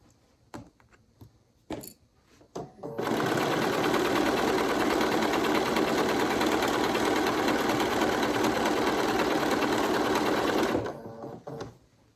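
A sewing machine runs steadily for about eight seconds while stitching flange binding along the edge of fabric, a loud continuous whir framed by quieter handling clicks before and after.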